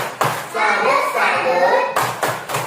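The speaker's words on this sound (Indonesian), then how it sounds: "kita tepuk salut lagi ya. 1, 2, 3. Tepuk salut" A class of children claps along in a rhythmic group clap in a classroom, with several sharp bursts of hand claps and children's voices chanting between them.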